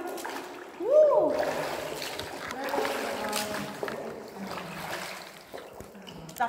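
Splashing water from someone swimming inside a sea cave on Black Island, Busuanga, Palawan, with a louder splash near the start, then steady sloshing and echoing water under excited voices and shouts.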